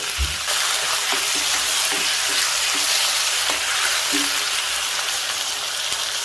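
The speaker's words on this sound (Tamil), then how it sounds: "லோ ஃப்ளேமில் போட்டு தன்னால் வதங்குற அளவுக்கு விட்டுடலாம்" A steady frying sizzle from tomatoes cooking in a pan over low flame, with a few soft clinks of stirring; no one speaks.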